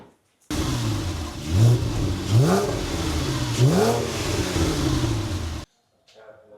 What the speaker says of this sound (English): Combined with the Miltech, this car sounds really good.